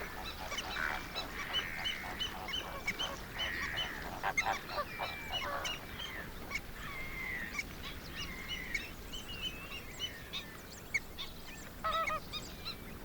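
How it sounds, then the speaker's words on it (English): Avocets feeding in the waters of a bay on the Namib coast call in a continuous chorus of honking, nasal notes, some near and some farther off, with no voices present. "the many birds which, like these avocets, feed in the waters of the bay"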